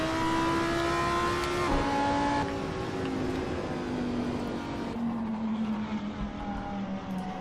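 A racing Lamborghini engine in the video game Assetto Corsa drones steadily at high revs, its pitch sliding downward through gear changes in an open sweeping turn, loud and continuous with no talk.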